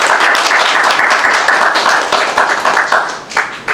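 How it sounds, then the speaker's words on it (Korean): An audience at a Christian lecture claps together in sustained applause that is loud and dense at first, then thins into scattered individual claps toward the end. "우리 박수 한번 좀 드리도록 하겠습니다."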